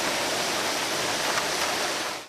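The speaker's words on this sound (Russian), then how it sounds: "Местами ливень сопровождался сильным ветром и градом." Heavy rain pours down in a dense, steady hiss with strong wind, loud and close, and nothing else breaks through it.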